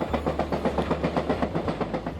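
A train in Alaska rolls along the rails with a steady, rhythmic clickety-clack of wheels over track joints, continuous and fairly close, with no voices.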